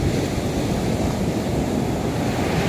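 Big sea waves breaking on Nha Trang beach, a loud, continuous roar of surf mixed with wind buffeting close to the microphone.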